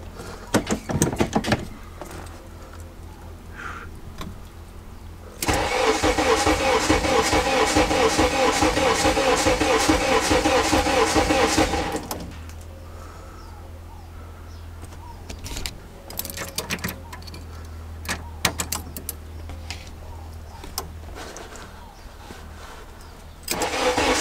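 A right-hand-drive Honda Integra's engine cranks loudly for about six seconds as it tries to start, then cuts off, leaving a low steady hum and a few scattered knocks.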